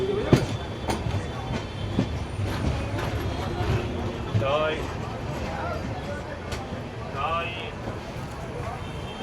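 A local train pulls into Bandel Junction station, its wheels and carriages rumbling and clattering steadily near the platform, with brief squeals and station voices talking over the din.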